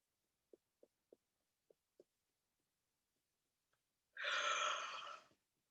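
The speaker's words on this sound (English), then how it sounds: "We're getting some more yawns." People yawning during a gentle morning mindfulness session: a few faint soft clicks, then one long, breathy, drawn-out yawn close by in an otherwise quiet room.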